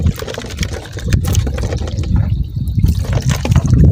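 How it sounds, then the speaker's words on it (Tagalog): Sea waves washing and sloshing at close range during crab fishing by the shore, a loud continuous churning of water with rising surges, no voices. "Lumalaki na mga idol yung alon no."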